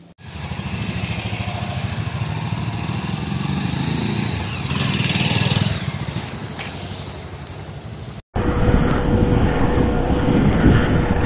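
A Bajaj Pulsar 220 motorcycle engine runs steadily and close, its buzzing drone rising slightly as the bike pulls away on a road trip out of Agra, with a brief cut before the engine continues.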